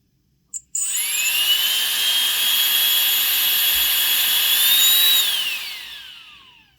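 A high-pitched Dyson vacuum motor whines up quickly to a loud, steady roar of rushing air at high power, holding for several seconds before winding down and fading.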